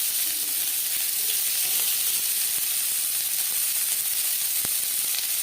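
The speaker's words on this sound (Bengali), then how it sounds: "দিয়ে দিলাম পেঁয়াজ কুচি" Chopped onion fries in a couple of spoons of hot oil for an egg and potato bhujia, giving a steady, close hissing sizzle with a few faint clicks.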